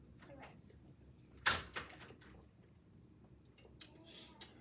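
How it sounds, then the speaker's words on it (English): A door thumps shut once in a quiet room, a short sharp knock followed by a smaller bump and light clicks, with soft household sounds around it. "Close that door, please."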